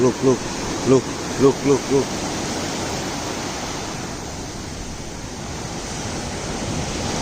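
Ocean surf surges and hisses onto Seven Mile Beach in Negril, Jamaica, a constant close rush of breaking water; someone speaks briefly at the start before the waves continue alone.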